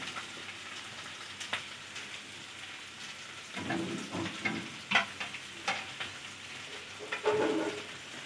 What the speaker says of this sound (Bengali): আমি এই আলু যেগুলো ভেজেছিলাম ওইগুলো আমি তুলে নিচ্ছি।